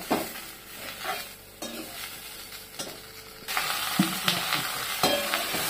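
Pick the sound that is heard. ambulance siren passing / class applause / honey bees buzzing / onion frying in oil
onion frying in oil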